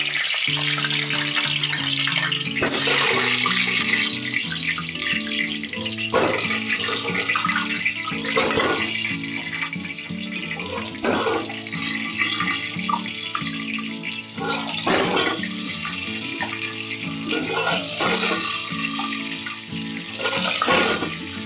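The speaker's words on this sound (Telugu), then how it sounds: "నూనె వేడైన తర్వాత ఈ టమాటాలని కట్ చేయకుండా ఇలానే వేసుకోవాలి" Whole uncut tomatoes drop into hot oil for a tomato pickle, giving a steady, loud hissing sizzle with bubbly crackles throughout and music playing underneath.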